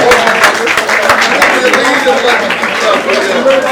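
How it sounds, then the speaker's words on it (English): Audience at an award ceremony during a 2022 distributors' conference, clapping loudly and continuously with dense crowd noise and people talking over it. "One more time, let's clap for them, ladies and gentlemen."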